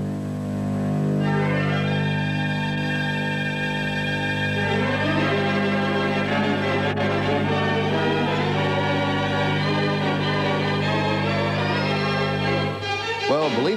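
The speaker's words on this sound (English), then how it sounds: "that is the sound of a theater pipe organ." A theater pipe organ in Hawaii plays sustained, rich chords with shifting harmonies and a vibrato-laden melody, loud and continuous before cutting off at the end.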